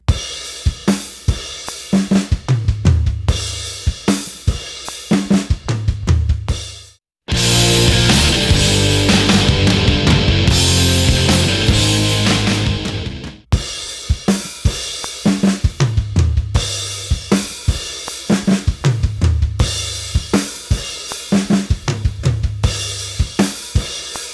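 A drum kit groove of rack tom and floor tom struck together followed by a kick, repeating in a steady pattern, loud and close, broken midway by a stretch of full band playing.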